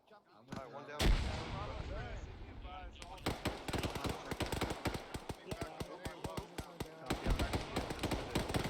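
Grenade and weapon blasts in the Arma 3 video game: a sharp loud explosion, then a dense string of rapid sharp cracks and bangs over a rumbling bed, with voices mixed in.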